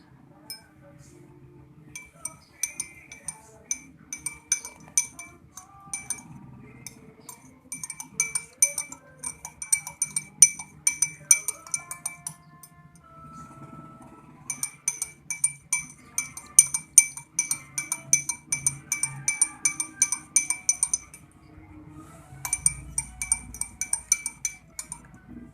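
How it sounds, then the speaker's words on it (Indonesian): A spoon clinks rapidly against the inside of a glass while stirring in a spoonful of soda, in bursts of quick, bright taps, pausing between rounds of stirring, with faint background noise. "kita masukkan 1 sendok soda ke dalam gelas, lalu kita aduk"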